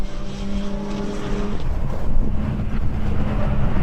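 Renault Clio Cup race cars at the Brno circuit in the TWC Clio Cup race roar past. A steady, loud engine drone is buffeted by wind noise, with a pitch shift midway as the cars pass.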